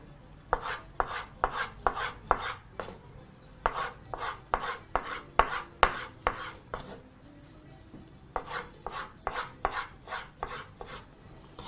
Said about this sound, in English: grab your tomato wedges and proceed to chop that into some